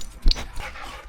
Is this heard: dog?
yes